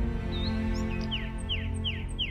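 Great tit, a small garden and woodland bird, giving a few high, thin calls and short downward chirps over a steady low background hum, fairly close and moderately loud.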